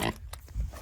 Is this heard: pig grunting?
yes